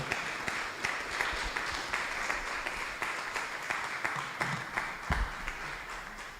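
Applause from a lecture audience welcoming a speaker, a steady, fairly distant patter of many hands clapping at low level.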